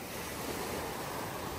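Sea waves off the Thai islands, a continuous broad wash of surf with wind noise on the microphone, steady and even in level throughout, no voices.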